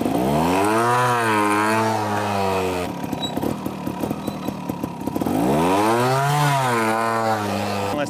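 A motorcycle engine revs hard in first gear at half throttle, rising in pitch, dropping back to a rough, popping idle, then climbing again, loud and close with nobody talking.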